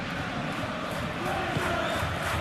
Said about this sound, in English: Now the crowd are demanding that they just finish this off.